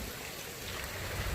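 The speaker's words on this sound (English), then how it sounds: "Oh, here comes the rain." Rain begins falling during a severe thunderstorm warning, a steady, broad hiss of drops that holds level and swells slightly with low rumbling at the end.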